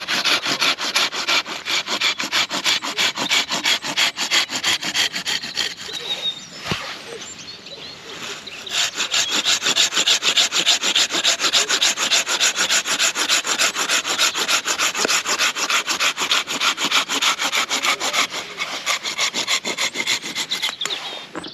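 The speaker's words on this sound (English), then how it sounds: "a good pruning saw's quicker a lot of times than" A pruning saw rasps steadily through a tree branch in an orchard, loud, close back-and-forth strokes running almost continuously with one short pause partway through.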